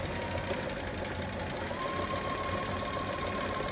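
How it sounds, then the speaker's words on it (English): A sewing machine straight-stitching fabric for a romper hums quietly and steadily at an even pace, with no pauses. "I'm just going to go ahead and straight stitch that into place"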